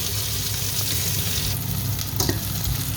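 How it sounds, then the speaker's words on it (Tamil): Chopped onions and garlic fry in hot oil, a dense continuous sizzle with stirring scrapes, loud and close throughout, no voices. "வெட்டி வச்சுக்கிற வெங்காயத்தை போடுவோம். நம்மோட உள்ளியையும் போடுறோம். தாளித்து கொண்டு வரட்டும்."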